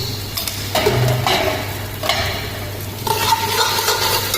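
Ginger garlic paste is stirred into chicken frying in a pot for Hyderabadi chicken tahari, loud close scraping strokes in bursts over a constant sizzle, with no speech.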